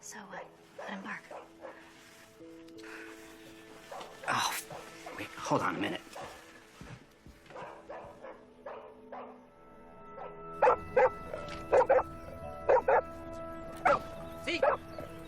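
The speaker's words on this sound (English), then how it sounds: "Let him bark." A dog barks in short bursts at the start, then after a quieter stretch a run of sharp, evenly spaced barks comes near the end; people talk in between.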